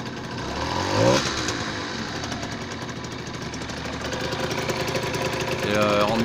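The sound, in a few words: 125cc motorcycle engine idling while warming up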